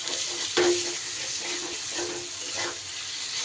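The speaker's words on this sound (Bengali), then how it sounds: "চিকেনের টুকরোটা দিয়ে খুব ভালো করে আমি মশলার সাথে কষিয়ে নেব।" Chicken pieces fry with spices in a pan for a green jackfruit chicken curry, giving a steady close hiss of sizzling broken by a few brief stirring scrapes.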